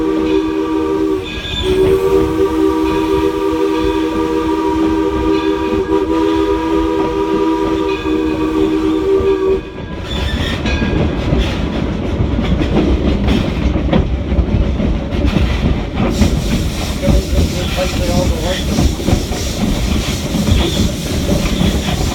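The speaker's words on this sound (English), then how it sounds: "Now the locomotive pulling us today is the Edison." Edison, a Ford-built 1932 locomotive, pulling passenger cars: a loud sustained horn blast for several seconds gives way to a continuous rumble of rolling wheels and rail clatter, close and steady throughout.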